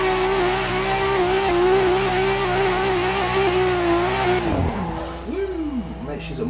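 A race car with an RB engine revs hard and steadily in Assetto Corsa at Forest Park on cold tyres, its strong harmonic drone dipping and wavering near the end with a brief tyre chirp.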